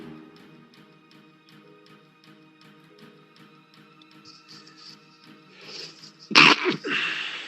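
A single loud, sharp sneeze bursts out near the end of a quiet stretch at a tabletop role-playing game session, with faint rhythmic background sounds before it.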